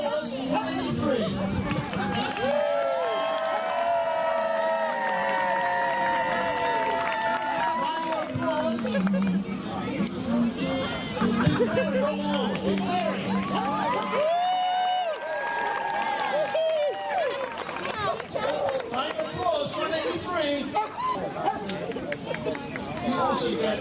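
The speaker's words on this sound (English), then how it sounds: "You sound your applause." Audience at a town day dog show cheering and clapping, crowd noise and chatter rising and falling, with an announcer talking over the hubbub.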